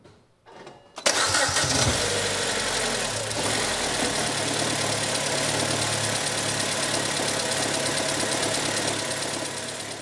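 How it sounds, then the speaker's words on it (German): A car engine cranks and catches after a second of quiet, then keeps running loud and steady at a slightly rough idle with some rattling, close by and without talk. "Motor gestartet und der lief. Das will ich euch auch kurz mal demonstrieren."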